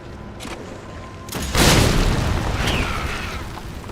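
A shotgun fires once in Resident Evil 3 Remake, a loud close boom with a long rumbling tail that lingers for several seconds over faint game ambience.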